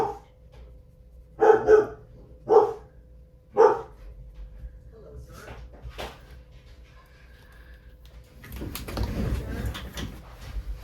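A dog being looked after while its owners are away barks three times in loud, separate bursts, followed by a stretch of mixed household rustling and clatter.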